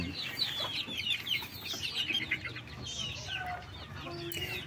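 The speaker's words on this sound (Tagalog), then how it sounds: "So papasilip ko sa inyo mga ka-vlogs yung sisiw nila." Japanese Shamo hens and chicks on a breeding farm in Tabango, Leyte, cluck and cheep continuously at close range. Soft high peeping from several chicks overlaps the lower clucks in a busy, unbroken chorus.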